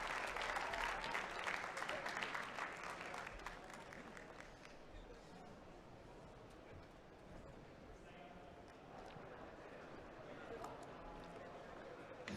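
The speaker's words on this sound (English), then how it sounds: "big round of applause for Mikael." Applause at a world barista championship semifinal in Milan opens loud and dense, then thins to scattered claps and room noise as people talk in the background.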